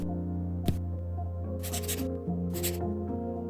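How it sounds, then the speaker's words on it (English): A stylus writes on a Remarkable Paper Pro paper tablet, giving short scratchy strokes in several bursts over a sustained low musical backing. "It's the sound of the new Remarkable Paper Pro, rewriting the future."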